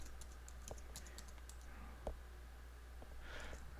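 A password is typed on a computer keyboard, scattered light key clicks at irregular intervals with a few louder taps, close and quiet over a low background hum.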